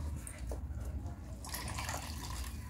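Soaking water squeezed and strained from three slices of bread softened for vegetarian kofta, a steady wet trickle under room noise with a brief splashy burst partway through.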